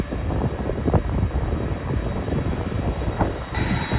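Airliner passing at Schiphol airport, a steady, broad engine roar with rumbling low end, moderately distant and constant throughout, no voices.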